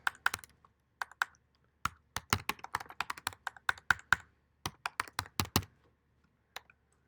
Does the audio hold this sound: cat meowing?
no